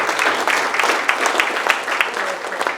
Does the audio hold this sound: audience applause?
yes